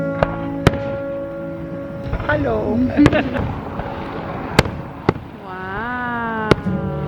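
Fireworks burst outdoors with several sharp, separate bangs spread across the scene. People talk and exclaim over them, and a steady tonal hum runs underneath.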